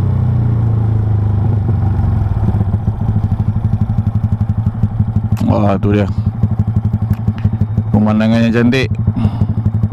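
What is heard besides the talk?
Yamaha Y15ZR motorcycle engine climbing a hill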